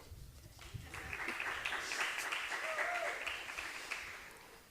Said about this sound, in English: And you may clap.